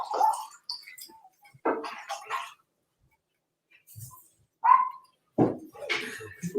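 A dog barks in a few short, separated bursts with quiet gaps between them, nearby and moderately loud in an otherwise quiet room.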